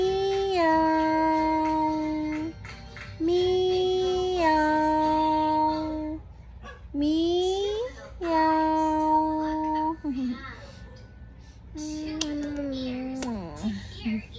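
A voice imitates a cat, giving a series of drawn-out, wavering meows with short pauses between them.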